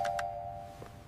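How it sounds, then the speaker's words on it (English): A two-tone doorbell chime rings once indoors, its bright tones sustaining and fading, with a soft thump near the end. "I hear the doorbell."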